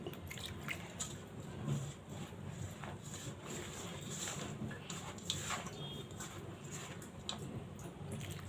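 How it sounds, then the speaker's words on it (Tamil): Water sprinkled little by little into a mix of roasted gram flour for elladai dough, a soft, faint trickle and patter against a steady background hiss. "இப்போ கொஞ்சம் கொஞ்சமாக தண்ணி ஊற்றி"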